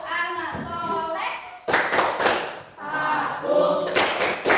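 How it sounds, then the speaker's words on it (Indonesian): Children in an Islamic religious education classroom chant the tepuk anak soleh rhyme in unison, punctuating the sing-song voices with sharp group claps that land in rhythmic bursts. "Coba kita tepuk anak soleh."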